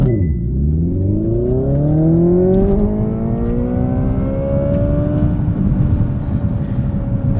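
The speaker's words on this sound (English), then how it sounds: "And that's a launch control." A 2025 Hyundai Ioniq 5 N electric car, 641 hp, pulls a launch-control start, its synthetic engine note climbing through rising stepped pitches, loud and close inside the cabin, with no talk.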